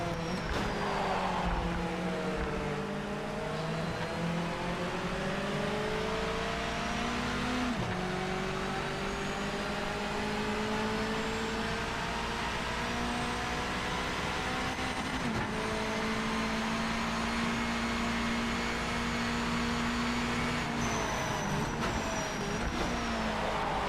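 A Mazda Miata engine racing in the video game Project Motor Racing, loud and continuous, revs rising and dropping through several gear shifts over the lap.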